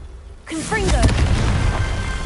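A Confringo spell in Hogwarts Legacy bursts into a loud, sudden explosive boom and then a sustained rumbling roar, with whooshing tones layered over the blast.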